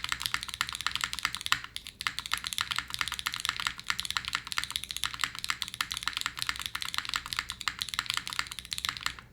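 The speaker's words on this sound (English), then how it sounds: "It's a bit more of a deeper spacebar. It's not quite as like bright and poppy as some of the other ones" Steady, fast typing on a mechanical keyboard with lubed switches and a carbon fiber plate, a dense run of bright, full keystrokes close up with a brief pause near the start and no talking.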